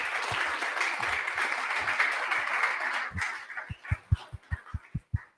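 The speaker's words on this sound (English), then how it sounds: "A huge round of applause for them for hosting us." At a tech meetup, a crowd applauds the Geeky Ants team, the dense clapping thinning out into a few scattered, distinct claps at the end.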